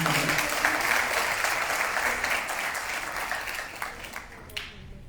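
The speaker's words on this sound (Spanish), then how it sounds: "Un aplauso para todas y todas ustedes" Audience applause at a panel discussion on adequate housing, a dense, steady round of clapping from a sizeable crowd that gradually thins and fades out toward the end.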